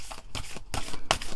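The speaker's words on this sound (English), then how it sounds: "I usually try to give these a shuffle through 3 times" A deck of oracle cards being shuffled by hand, close and crisp, in several quick riffling bursts separated by short pauses.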